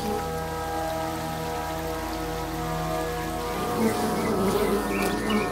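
A steady hum of many bees swarming around automatic bee waterers in a Northern Evia apiary, a dense continuous drone with faint tapping and rustling joining in toward the end, with no one speaking.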